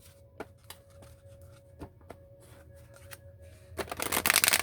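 A deck of cards is shuffled up close: scattered riffling clicks and taps, then a fast, loud riffle buzz at the end.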